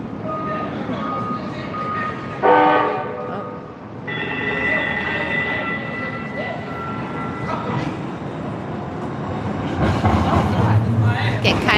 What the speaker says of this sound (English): so let's let the train go by